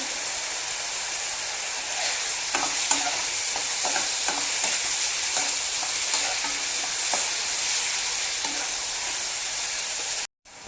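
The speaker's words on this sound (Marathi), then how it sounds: "इथे मी हाय फ्लेमवरती कांदा भाजून घेत आहे" Chopped onion frying on high flame in a pan, a steady loud sizzle with intermittent scraping and stirring clicks, cut off abruptly near the end.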